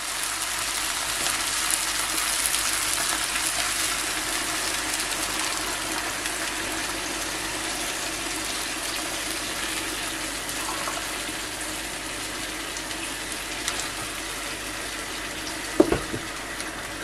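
Water pours steadily into a pot with a continuous close rushing hiss, and a brief clink comes near the end.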